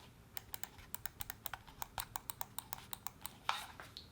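Left and right button clicks on an Armaggedon Grumman Raven 3 gaming mouse, a rapid series of about twenty crisp, close clicks in an uneven rhythm with no talking.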